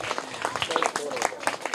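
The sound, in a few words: children clapping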